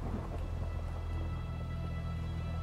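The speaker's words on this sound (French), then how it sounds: "De l'orage, de la neige, et j'entends de la pluie." Steady rain falls continuously, a dense hiss with a deep low rumble underneath, unbroken and fairly even throughout.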